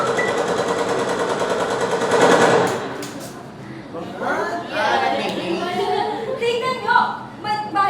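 Rapid staged gunfire rattles in a school play of Noli Me Tangere, a loud burst of continuous machine-gun-like shots for a few seconds, then voices speak over fading background noise.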